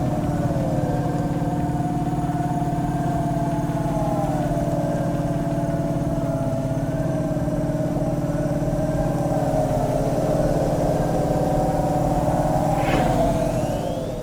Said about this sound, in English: It is most of the car engines, yeah.